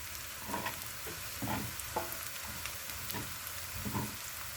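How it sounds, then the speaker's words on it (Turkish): Onions and peppers sauté in a pan for shakshuka, a gentle continuous sizzle broken by several soft scraping stirs at irregular intervals, close up and with no voices. "Kavrulan soğanlarımı hemen biberlerimi ilave edeceğim. Biberlerim de biraz kavrulsun."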